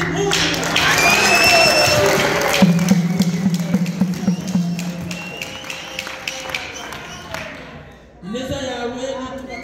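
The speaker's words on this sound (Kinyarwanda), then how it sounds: "Uwiteka nyemerera tugushimire abashoboye bakuvugiriza impundu." A church congregation ululates in praise: high warbling trills from several voices, then a lower sustained trill, with scattered clapping and crowd noise. Voices pick up again at the end.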